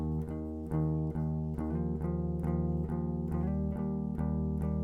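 Electric guitar with the pickup switch up strums slowcore chords rhythmically with a rounder, warmer tone and a faint chorus shimmer, each strum ringing into the next.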